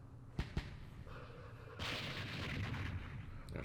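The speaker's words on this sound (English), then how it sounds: "There's mortars there too." Mortar fire in the Vietnam war game Campaign Series Vietnam, Battle of Dak To: two sharp, faint thumps close together, then a sustained rumbling, crackling barrage that swells and continues at low volume.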